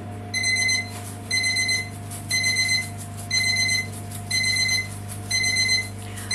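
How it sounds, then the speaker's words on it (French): An oven timer beeps in a home kitchen during baking of a stuffed butternut squash, sounding six evenly spaced bursts of rapid electronic beeps about once a second, loud and close over a steady low appliance hum. "Le minuteur pour ma deuxième recette."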